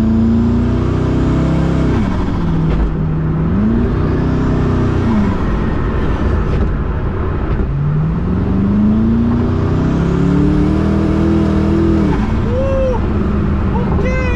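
A Koenigsegg Regera hypercar, a 1500 hp model with no transmission, accelerates hard up close with a loud, rising engine note that swells, dips and climbs again, with no talk over it.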